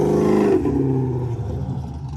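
A Camaro engine at a car meet runs with a choppy, lumpy idle, a loud close rumble with an uneven pulsing beat, easing slightly after a brief rise at the start.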